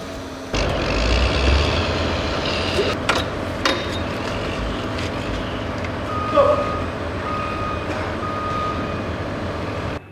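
Heavy vehicles maneuver nearby while installing large floodgate valves, with a steady low engine rumble, a reversing beep pattern and occasional air-brake hisses, no one speaking.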